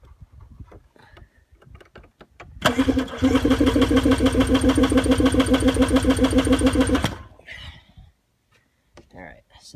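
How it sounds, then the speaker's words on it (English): A 1991 Yamaha WaveRunner jet ski engine cranks over with the throttle held open during a compression check. It gives a loud, steady, rapid chugging whir for about four seconds, with someone talking before and after. "you want to check it turning the motor over and holding the throttle open"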